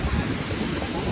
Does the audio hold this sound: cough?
no